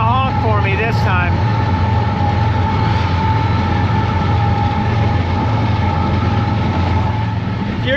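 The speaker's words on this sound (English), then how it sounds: "Here's the old train. You better get used to this train." An old train rolls past close to a desert camp along Wash Road at Glamis, a steady loud rumble with a sustained horn-like tone, engine drone throughout and a brief voice early on.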